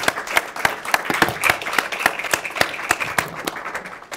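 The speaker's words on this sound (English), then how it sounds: "may I invite you in a round of applause to these panelists" Applause from a conference audience for a panel on peace in Afghanistan, sparse and fairly close, with distinct sharp individual claps in a loose rhythm over a softer background of scattered clapping.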